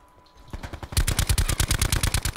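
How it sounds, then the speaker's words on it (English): Automatic gunfire in Call of Duty: Blackout, starting quietly and then breaking into a loud, rapid burst of evenly spaced shots that runs to the end, close and punchy. "Other team shot me."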